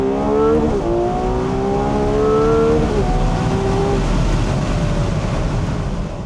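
A high-pitched Ferrari 12Cilindri Spider V12 engine screams as it revs hard past 8000 rpm through several rising gear pulls, loud and sustained.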